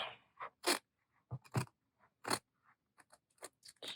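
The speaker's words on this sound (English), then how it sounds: "Let me grab my fussy cut scissors." Sharp fussy-cut scissors snipping paper for a corset tuck spot journal topper, a series of crisp separate cuts in an irregular rhythm, close and clear, with quiet pauses between snips.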